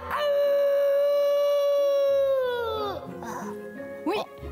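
A wolf's long, loud, sustained howl that slowly falls in pitch and fades, followed by softer yips and whines.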